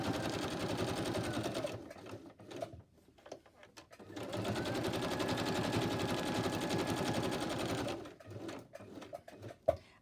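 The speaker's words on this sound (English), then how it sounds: "Now I'm just going to stitch around this" A sewing machine stitches around a fabric Christmas gift box, running in rapid mechanical bursts with short pauses and a final clack, heard up close and fairly quiet.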